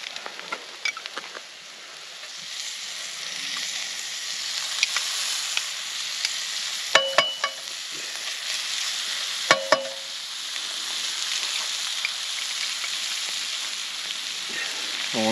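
Rosemary butter with small pieces of garlic clove sizzling in a pan over a campfire outdoors, a continuous soft frying hiss with occasional sharp pops and clicks of utensils.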